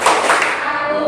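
A classroom of students clapping together the 'tepuk bahasa Indonesia' clap rhythm at a Muhammadiyah junior high school, a dense burst of many hands close and loud, with faint voices mixed in.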